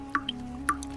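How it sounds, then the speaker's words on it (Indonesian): Water drips onto a large rock inside a cave, giving a few distinct close drops with a bright, wet plink, heard alone over a faint steady background hum. "Ternyata itu suara gemericik air yang menetes pada sebongkah batu yang sangat besar."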